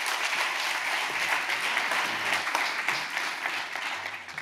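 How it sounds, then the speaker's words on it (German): Keynote audience at a German business association event giving a lively round of applause, dense continuous clapping that stays loud for the whole stretch with no voices over it. "möchte einen großen, munteren Applaus trotz Mittagspause"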